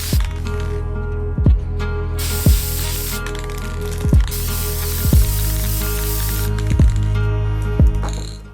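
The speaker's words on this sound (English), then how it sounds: "All we had to do was literally fill in the gaps with the metallic gold on both sides of the boot" Metallic gold spray paint hisses onto a custom Nike sneaker in a steady series of short bursts, each starting with a sharp click of the nozzle, loud and close.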